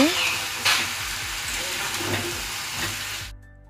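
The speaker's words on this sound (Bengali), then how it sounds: "যে তেলটা ছিল সেই তেলেতেই মাংসগুলো দিয়ে ভালোভাবে মাংসগুলোকে ভেজে নেব" Chicken pieces fry in hot oil in a kadai with ginger-garlic paste and salt, giving a loud continuous sizzle with brief stirring scrapes, before cutting off abruptly.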